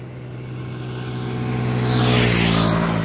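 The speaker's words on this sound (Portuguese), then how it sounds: "Essa moto aí tá indo no sentido de João Pessoa." A motorbike passes on a rural road in the Paraíba countryside under cloudy, rainy skies; a steady low engine hum builds to a louder, close pass with a sweeping tonal shift, alone without talk.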